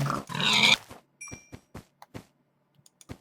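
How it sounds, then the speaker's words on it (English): Pig grunting in the Minecraft video game: a loud, rough grunt at the start, followed by a string of short, soft snorts and steps spaced irregularly over the next few seconds. "You are a pig."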